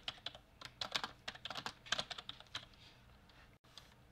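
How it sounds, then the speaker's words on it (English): Quick, uneven bursts of keystrokes clatter on a computer keyboard as a name is typed, close and fairly quiet, with no talking. "I'll type the name in for you"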